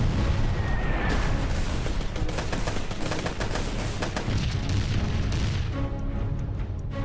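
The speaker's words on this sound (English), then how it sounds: "Allied commanders launched the most powerful preliminary bombardment of the war" Heavy artillery bombardment from the Battle of the Somme, a continuous dense roar of overlapping booms and rapid gunfire rumbling loudly without pause.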